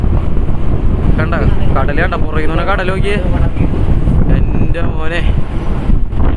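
Strong wind roars across a boat crossing a rough sea toward Kochi, a dense, steady rush of wind and water throughout, with a voice speaking over it and brief exclaimed words.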